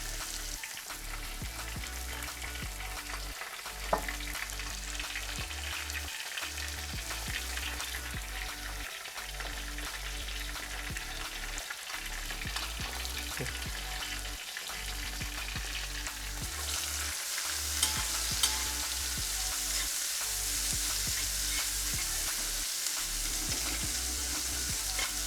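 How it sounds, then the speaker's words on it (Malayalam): Chopped onions sizzle steadily in a hot pan for a Kuttanadan-style duck roast, a continuous close frying hiss broken by regular stirring scrapes. "ശേഷം നമ്മൾ അരിഞ്ഞു വെച്ചിരുന്ന സവാള ഇടാം."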